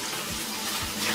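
Water drains from a Giantex twin tub portable washing machine through its drain hose into a small bucket, a steady close rushing and splashing stream with no talk.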